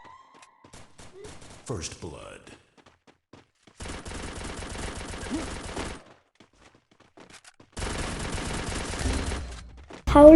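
Bursts of rapid automatic gunfire from the Free Fire battle-royale game come in two long volleys separated by near-silence, with isolated shots and brief effects between them and a sharp burst at the end.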